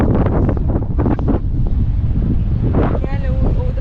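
Strong sea wind buffeting the microphone on a high lookout tower at the coast in Šventoji, a loud, constant rushing roar with gusty surges and faint voices underneath.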